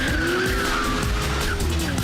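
A cartoon chase by a motorcycle gang sounds as a loud, close burst of tire skids and squeals over revving engines, short and continuous with no talk.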